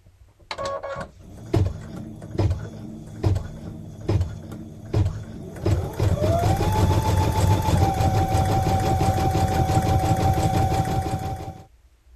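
An embroidery sewing machine stitches a satin stitch on an appliqué clover hot pad, starting with a series of rhythmic clunks, then settling into a loud, continuous close whirring hum with fast needle rattle until it stops.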